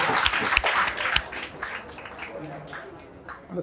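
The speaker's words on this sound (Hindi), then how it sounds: "इनके लिए ताली बजाई जाए।" Scattered classroom applause for students who answered a chemistry question correctly in a Hindi lecture; a short burst of uneven clapping that quickly thins out and fades, with a teacher's voice talking over it.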